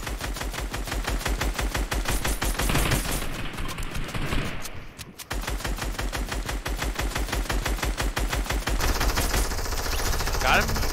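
Gunfire from the Fortnite video game: rapid, sustained automatic bursts with a brief pause midway, loud and dense throughout, with players talking underneath.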